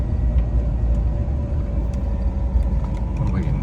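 A 1970 Lancia Flavia Milleotto Berlina with a Solex PAIA 32 carburettor climbing a hill in third gear, its engine giving a steady, full low rumble throughout with faint road noise over it.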